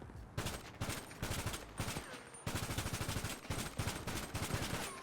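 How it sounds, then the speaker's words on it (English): Rapid AK rifle bursts fire in GTA 5, loud and close, with short pauses between the strings of shots. "we're just gonna use our portable AK. So if we shoot this side"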